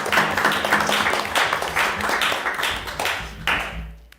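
Applause breaks out at a city council meeting, dense clapping from a modest room of people that thins and tapers off over a few seconds.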